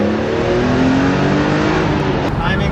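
A BMW E46 M3 with a freshly upgraded Vanos unit revs hard and steadily up close, its engine note loud and sustained before dropping off near the end.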